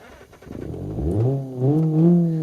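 A Bruckell LeGran 2.5 S in BeamNG.drive cranks and catches, its engine rising from a rough start into a steady, climbing rev with clear harmonic tone, close and loud with no talk.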